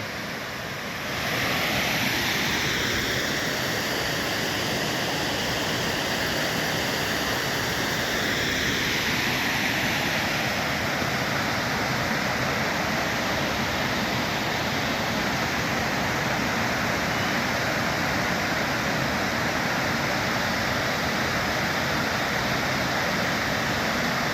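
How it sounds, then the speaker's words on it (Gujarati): Dense, steady hiss of heavy rain falling without pause, loud and close throughout. "વરસાદ ચાલુ થઈ ગયો છે અત્યારમાં જ"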